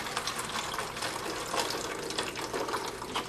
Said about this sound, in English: pour out all of this iced tea that we just made into our second bottle